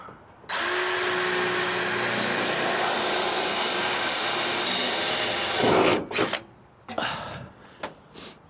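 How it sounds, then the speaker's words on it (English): A loud power drill whirs steadily for about five seconds while installing a fifth wheel hitch on a 2007 Ford F250, its pitch dipping near the end, followed by a few short bursts and clatter. "now we use this drill."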